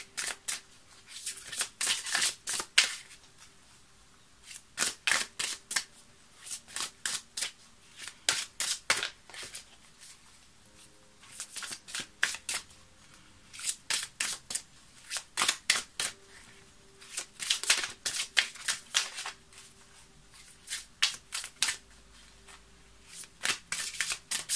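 Oracle cards being shuffled, with repeated bursts of crisp riffling clatter arriving in quick clusters and separated by short pauses, close and fairly quiet, with no one speaking.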